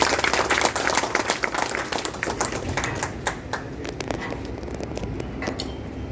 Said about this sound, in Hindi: ताली हो जाए जोरदार रामनाथ जी के लिए